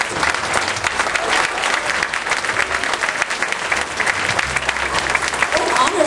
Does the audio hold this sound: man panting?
no